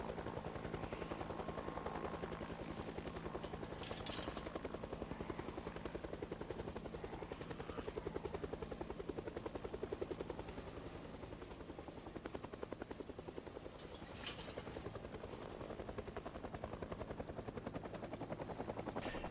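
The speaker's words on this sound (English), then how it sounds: "Yep, this would be our first helicopter for this run." Steady rotor thumping of a helicopter in a video game drones throughout, joined by occasional bursts of rapid gunfire.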